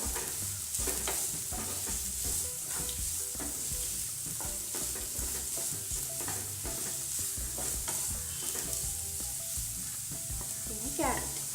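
Chopped green chillies, onion and carrot with salt, sautéed in a pan for oats upma, give a steady, close sizzle with repeated stirring scrapes throughout and no talk.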